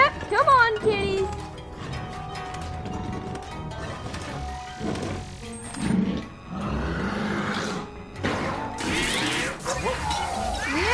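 Cartoonish cat meows and yowls from Luigi's Mansion 3 rise over game music and crashes, with several cries early on and noisy bursts later, while a player talks over them.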